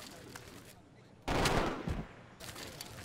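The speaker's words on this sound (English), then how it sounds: "Wow, they have machine guns." A burst of machine gun fire from a WWII-era battle in the strategy game Civilization V rattles out for about a second, loud and dense, against quieter background game sound.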